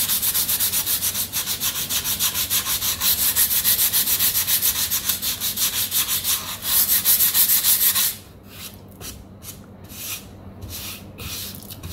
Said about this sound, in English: I'm losing a little grain here, so I'm just going to sand just a little bit more.